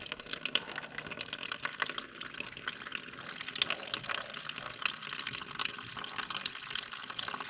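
Water drains out of a Lull Highlander 844 telehandler being repaired, a steady close splashing and trickling stream that keeps going with no talking.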